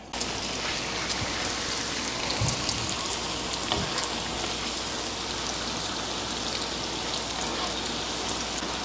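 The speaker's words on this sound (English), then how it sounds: "I'm just gonna go ahead and fry the little donut holes so I can test the oil out" Small yeast donut holes fry in hot oil, a dense, steady crackling sizzle like rain on a surface, close and continuous with a couple of soft clunks, no speech.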